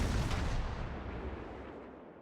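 A naval gun salvo in World of Warships fired from the cruiser Marblehead, one heavy booming blast at the start that rumbles and fades slowly, loud and alone.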